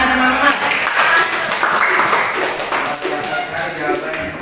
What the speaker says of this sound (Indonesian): Ya, tepuk tangannya teman-teman.